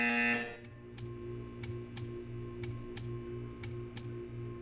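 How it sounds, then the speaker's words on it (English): An electronic buzzer in Portal 2 sounds in a regular pulsing pattern, short repeated bursts about every half second over a low steady hum, following a brief tonal sound at the very start. "You will hear a buzzer."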